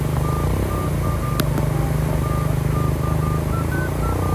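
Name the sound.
motorcycle riding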